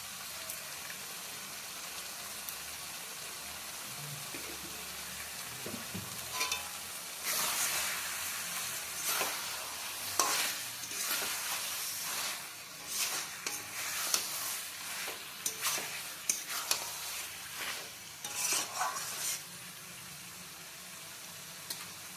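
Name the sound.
chicken curry with khoya kheer being stirred in pan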